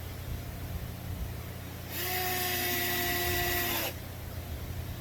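A Bosch drill drives washer head screws into a drawer front jig, giving one steady whirring burst of about two seconds in the middle, close and fairly loud over a low background hum.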